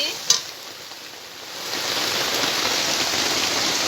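A spice paste that has released its oil sizzles in a pan, a steady hissing fry that grows louder after a brief clink at the start as it is stirred.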